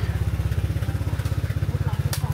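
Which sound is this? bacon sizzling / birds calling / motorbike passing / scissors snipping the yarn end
motorbike passing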